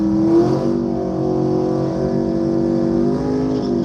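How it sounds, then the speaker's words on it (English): Chevrolet Camaro doing a burnout at a Friday night drag race, a loud sustained engine roar held at high revs with steady harmonic tone for several seconds, heard at a distance. "there's this Camaro, if you can see it, there you go. Now he's doing his burnout."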